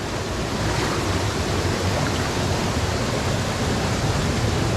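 Icy Alpine mountain stream water rushing around a wader, a dense, even roar of flowing water close by, loud and unbroken.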